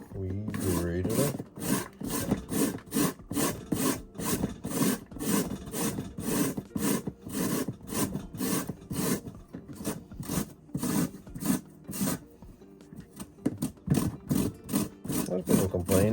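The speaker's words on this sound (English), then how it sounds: "And now we grate it up." Soaked raw potatoes are rubbed down a box grater for homemade hash browns, making a steady run of close, rhythmic rasping strokes for a long stretch, with brief pauses near the end.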